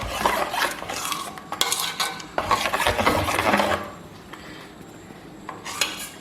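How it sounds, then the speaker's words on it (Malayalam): Vellayappam rice batter is stirred briskly, making wet scraping and rasping strokes in quick bursts, loud and close, before easing into quieter, slower movements. "അപ്പോൾ ഇനി നമുക്കിത് നന്നായിട്ടൊന്ന് ഇളക്കി വെക്കാം."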